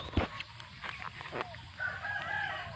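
A rooster crows once, close and fairly loud, in a village beside rice fields, the call ending in a drawn-out tail. Faint background noise surrounds the crow, with no voices.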